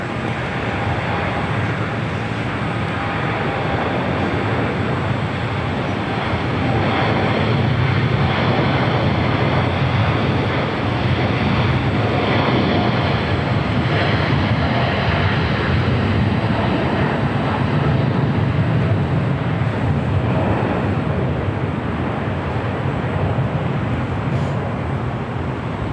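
A United Dreamliner airliner lands at LAX as a steady, loud, broadband engine and roar that holds throughout, heard from nearby with no talk.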